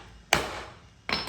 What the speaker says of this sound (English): We're gonna hit this with the hammer and bend that down.